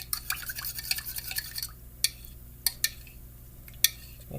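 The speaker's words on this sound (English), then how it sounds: "Break those yolks up" A utensil clinks and scrapes in a bowl as egg yolks are broken up and mixed with yeast for fresh-baked rolls, with a rapid run of taps followed by a few separate knocks, close and clear.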